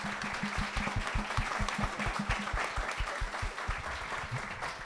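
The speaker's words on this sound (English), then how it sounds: "Let's give them a round of applause." An audience gives a round of applause for the panel speakers after a talk, with many hands clapping in a continuous, moderately loud patter.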